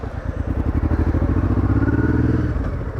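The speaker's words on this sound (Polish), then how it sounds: "Motocykl już jest dobrze rozgrzany. I zobaczmy, co się dzieje." A warmed-up motorcycle pulls away nearby with a loud, rapidly pulsing exhaust beat that holds a steady, slightly rising throb over a few seconds.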